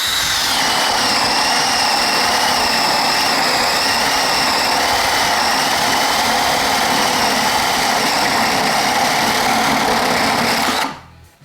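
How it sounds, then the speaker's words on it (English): Ryobi 18V ONE+ compact drill/driver running steadily as it bores holes, a sustained high motor whine held at close range for about eleven seconds before cutting off abruptly. "We'll go ahead and put it back in, and then we'll drill a couple holes here."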